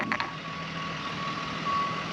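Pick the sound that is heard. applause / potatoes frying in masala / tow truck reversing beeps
tow truck reversing beeps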